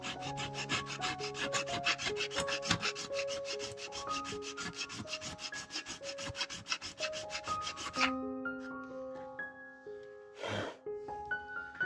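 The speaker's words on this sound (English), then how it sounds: "So just a little bit of sanding." Steady rhythmic rasping of sanding a plastic model tank part, quick back-and-forth strokes close by with a faint tonal hum underneath, pausing briefly near the end.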